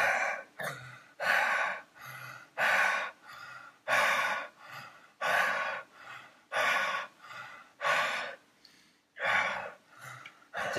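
Heavy, rhythmic breathing up close during a breathwork session, deep airy inhales and exhales alternating steadily, about a dozen breaths with a slight throaty rasp.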